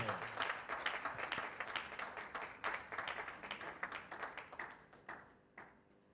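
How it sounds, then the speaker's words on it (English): An audience at a ceremony claps in a sustained round of applause, many hands at once and moderately distant, fading toward the end. "A round of applause for Mojisola Akinsoya."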